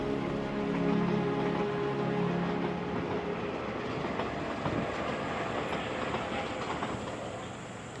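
The Desert Express passenger train in Namibia rolls along the rails through the desert with a steady rumble and faint rhythmic clatter, a tone sounding early on before the noise slowly fades.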